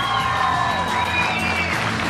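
An audience at an Izmir film premiere gala for Yol Arkadaşım fills the space with steady, continuous applause and crowd noise, with a bright tonal whistle or feedback-like line running through it.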